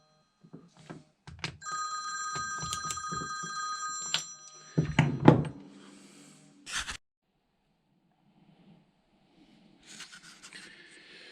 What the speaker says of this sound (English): I cannot believe the phone's just ringing.